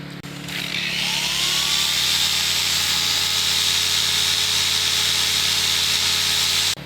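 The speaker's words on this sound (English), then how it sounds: "I'm just going to use the buffer and the polishes, and we'll see what we can do." A rotary buffer with a cutting pad polishes the paint of a used car. It spins up with a rising whine, then holds a loud, steady motor drone close by until it cuts off at the end.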